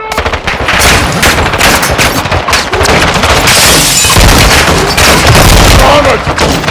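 Dense gunfire in the video game Call of Duty Modern Warfare 2, loud continuous automatic bursts and heavy booms packed together close up, with shouted voices mixed into the battle.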